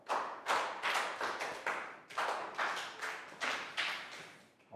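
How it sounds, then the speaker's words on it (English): Classroom applause for a Year 3 pupil during an English lesson: a short burst of children clapping in bursts that swell and fade repeatedly, close and moderately loud, with no talking over it. "Big round of applause for Lackow"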